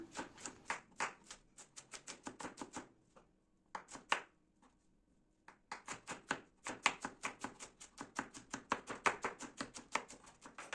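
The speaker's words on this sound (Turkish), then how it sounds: "Mümkün olduğu kadar ince doğramaya özen gösteriyorum." A knife finely chops red pepper on a cutting board in quick rhythmic bursts, pausing briefly before resuming its fast, even tapping.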